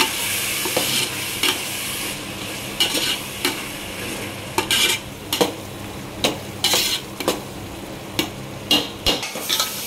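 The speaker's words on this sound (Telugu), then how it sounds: "నిమ్మకాయ రసం పోసుకుంటున్నాను. పోసుకొని బాగా కలుపుకోవాలి" A spoon stirs lemon juice into vegetable biryani in a pot, scraping and clinking in an uneven rhythm of close, bright strokes over a steady low sizzle.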